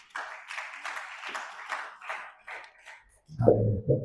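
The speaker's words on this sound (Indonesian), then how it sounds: "Tepuk tangan bagi Allah kita." A church congregation claps in short rhythmic bursts of roughly a dozen beats, fairly close, before a lower, duller thumping sound takes over near the end.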